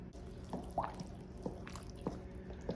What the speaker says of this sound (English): we're going to pour in our chocolate mixture.